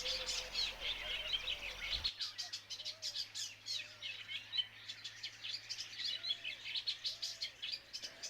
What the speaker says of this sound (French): l'oiseau qui n'arrête pas une minute de chanter, c'est l'Hippolaïs pâle